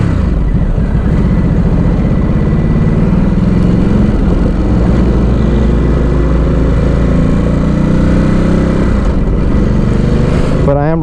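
A Ducati Supersport S motorcycle engine runs steadily while being ridden on a hot day, a loud continuous drone with heavy low rumble and wind noise throughout, no one speaking.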